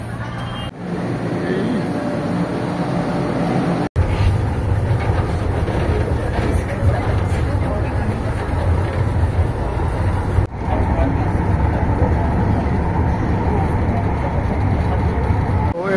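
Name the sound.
light rail station with trains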